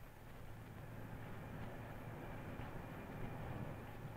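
A 1970s passenger train runs on rails between Leeds and Harrogate, its steady low rumble and wheel noise continuous and close, with faint rhythmic clatter as it crosses over points.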